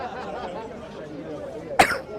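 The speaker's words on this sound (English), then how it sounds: "I'm already coughing, bro" A single sharp cough bursts out near the end, loud and close, over a low murmur of background chatter.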